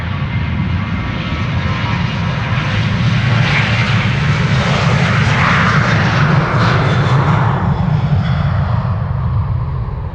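A Transavia jet departing Amsterdam Schiphol for Ibiza thunders loudly and close, a dense continuous engine roar with swirling higher rush that holds strong throughout and carries no voices.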